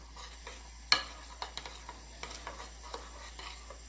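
Slime being mixed by hand, giving soft, sticky squelches and light taps in an irregular rhythm, close and quiet over a steady low hum.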